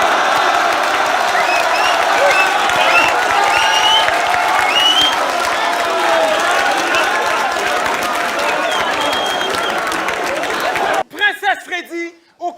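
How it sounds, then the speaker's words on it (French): A rap battle crowd applauding and cheering for a contender, a loud sustained roar of clapping, whoops and chatter filling most of the clip before cutting off into a few scattered sounds near the end. "vous pouvez l'applaudir"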